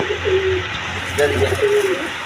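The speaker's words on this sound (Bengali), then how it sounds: "দর্শকবৃন্দ দেখেন এইখানে আরেক পেয়ার বোম্বাই কবুতর আছে" A pair of Bombay pigeons cooing close by, with two short soft coos and then a longer rolling coo, over steady background hum and someone talking.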